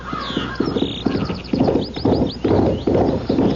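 A filly's hooves clip-clop in a steady walking rhythm, with a few high whinnies or bird-like squeaks early on, loud and close throughout.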